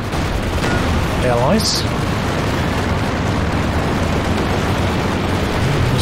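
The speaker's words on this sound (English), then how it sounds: "Going to take a pass from the anti-tank planes." Aircraft strafing and explosive booms from anti-tank planes hitting ground units during a 2v2 Company of Heroes 2 battle, a dense rumbling din of gunfire and blasts under continuous commentary.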